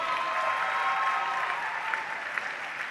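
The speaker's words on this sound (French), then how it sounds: "Et vous pouvez l'applaudir, elle s'est relevée, messieurs, dames." Spectators at a women's rugby match in Brest clap in steady, dense applause that fills the stadium for the whole stretch, with no voices rising above it.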